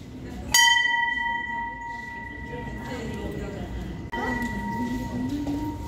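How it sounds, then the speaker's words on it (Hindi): A metal temple bell at a Digambar Jain temple is struck once with a bright, ringing clang that rings out and slowly fades, then a second softer strike follows, while people talk nearby. "बजा दो घंटी, बजा दो।"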